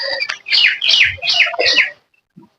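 Pet pigeons kept at home call in four close, rhythmic bursts, loud and near, then fall quiet.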